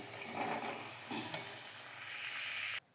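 Potatoes sizzle in hot oil in a wok, a steady close frying hiss with a brief stir partway through before the sound cuts off abruptly near the end.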